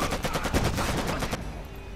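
A Kalashnikov rifle fires a rapid automatic burst in the shooter game Made Man: dense, loud cracks for over a second, then a fading echoing tail.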